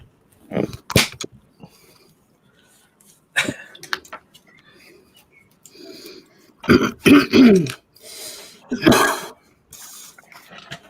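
A man coughs and clears his throat in a quiet room: several harsh, close bursts spread across the span, some in quick clusters, with short quiet gaps between them.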